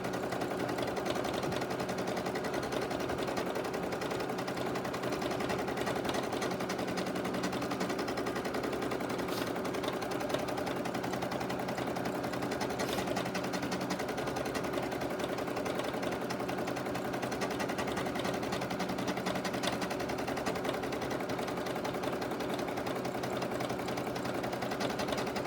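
A Brother Innovis NS2750D embroidery machine stitches continuously, a steady fast mechanical rattle and hum running evenly throughout at moderate, close level.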